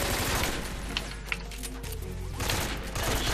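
Rapid automatic weapon fire with heavy recoil in Metal Gear Solid 3: Snake Eater, a dense continuous burst that keeps rattling across the whole stretch, loud and close, easing slightly midway before surging again.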